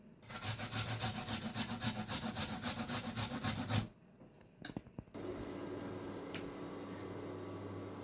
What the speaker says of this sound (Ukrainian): на дрібнішу тертушку натираю цибулину